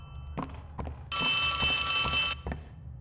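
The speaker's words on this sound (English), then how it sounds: "Phone is ringing." A phone rings in the horror video game Poppy Playtime Chapter 3, a loud electronic ring of just over a second between a few soft thumps and footsteps.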